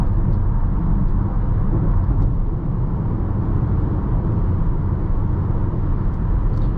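A 2023 Volkswagen Atlas SEL R-Line accelerating on the road, heard as a steady, smooth low engine and road rumble that holds an even level throughout with no talk.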